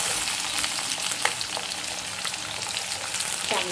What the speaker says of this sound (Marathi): ह्यामध्ये आपण आता घालूया कढीपत्ता आणि बारीक चिरलेला कांदा घालूयात